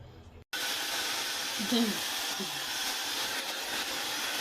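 Hair dryer fitted with a diffuser drying curly 2C/3A hair, switching on abruptly after a brief silence, then a steady close rushing blow of air that holds evenly to the end.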